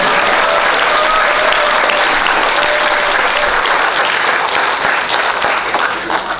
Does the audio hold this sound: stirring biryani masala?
no